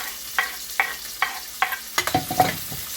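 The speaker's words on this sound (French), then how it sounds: "mon huile est chaude, je verse mes oignons" Chopped onions poured into hot oil for a paneer biryani, with a few sharp clinks first, then a burst of loud close sizzling and spattering as they hit the pan.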